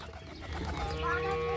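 A desi pigeon held in the hand gives a soft, low cooing call close to the microphone, brief and gentle, over a faint background hum.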